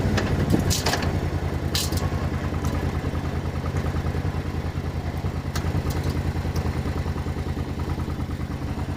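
Steady rumbling V-twin engine of a 1500 Intruder LC motorcycle, 22 years old and running again after 10 years sitting, at an even pace, with a low throbbing pulse and occasional clicks and rattles.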